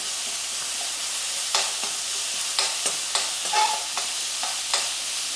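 Ingredients for a Kerala curd pachadi are sautéed with salt in a pan, with a steady sizzle and several short, distinct stirring scrapes, close up and with no talk.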